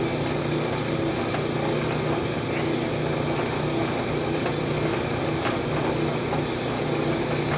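A metal lathe runs in reverse to back a tap out of a workpiece while making an overall-length case gauge for reloading, giving a steady, continuous mechanical hum and whir with no pauses, close and fairly loud throughout.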